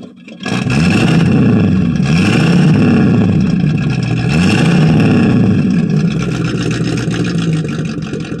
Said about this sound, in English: you're going to have to crank it over and give it a little throttle